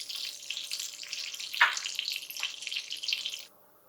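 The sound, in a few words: garlic frying in oil and butter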